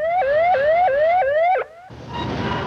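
A loud electronic industrial warning siren, alerting workers before equipment around bins and hoppers restarts, wails in rising sweeps, repeating every few tenths of a second, then cuts off abruptly and gives way to a broad noisy hiss.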